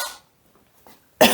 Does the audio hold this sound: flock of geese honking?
no